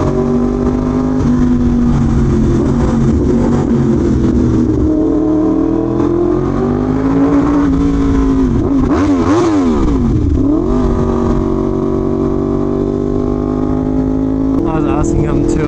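Yamaha R1M sport motorcycle engine heard from the saddle while riding in the rain, a steady loud drone with pitch sweeping up and down through gear changes, wind and road spray rushing under it throughout.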